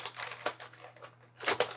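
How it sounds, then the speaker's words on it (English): Nail clippers snip through plastic action figure packaging in a few quick, close crackly cuts with short pauses between them, with no voices. "I am using nail clippers"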